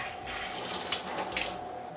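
Keg parts are rinsed under a running tap, a steady close stream of water splashing into a sink with small shifts in its flow.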